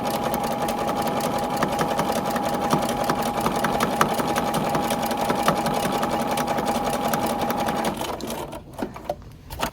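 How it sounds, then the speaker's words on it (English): A sewing machine runs steadily, stitching the quarter-inch seam that joins the binding ends on a quilt, its motor hum continuous and close for about eight seconds before stopping, leaving a few soft handling clicks. "So I can come back to the machine and finish out that 1/4 inch seam."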